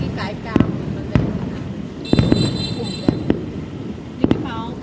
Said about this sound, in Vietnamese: Những cái pháo cao phải đi với tốc độ rất là nhanh nhá.